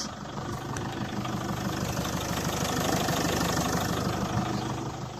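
Car engine idling with knocking hydraulic lifters, a loud steady close rumble with a rapid rhythmic ticking clatter running throughout, no voices.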